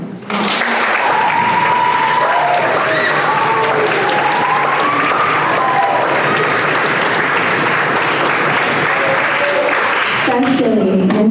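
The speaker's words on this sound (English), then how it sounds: "Clap for them." An arts banquet crowd claps for the art teachers, sustained, full-room applause lasting around ten seconds, with voices calling out over the clapping and talk resuming as it fades at the end.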